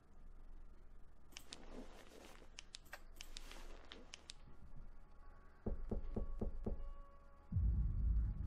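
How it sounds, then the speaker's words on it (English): A horror video game, FNAC3, sounds a quick run of about five loud knocks near the end, after scattered clicks and rustles, followed by a sudden burst of noise. "That was a good knock."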